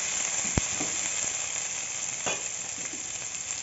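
Onion paste sizzling in hot oil in a pan, a soft, steady frying hiss with a few faint taps and stirs, no voices.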